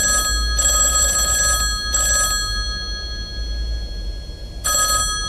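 An old landline telephone rings in repeated bursts of its bell, loud and close, with short pauses between rings over a low steady hum.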